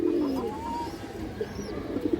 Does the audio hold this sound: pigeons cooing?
yes